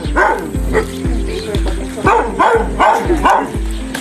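Dogs bark in repeated yelping bursts at 5:15 a.m. on an outdoor morning walking route, fairly close and loud, with a person talking over them.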